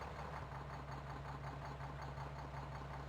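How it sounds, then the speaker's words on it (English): A truck engine idles with a steady, low, continuous rumble and faint mechanical knock, holding an even level throughout with no voices. "the truck is making an awful lot of noise when it's idling"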